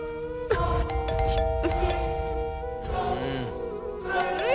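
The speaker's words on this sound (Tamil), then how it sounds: "காலிங் பெல் அடிக்குது" A doorbell rings with a ding-dong chime in a Tamil TV serial scene, loud and close, mixed with dramatic background music.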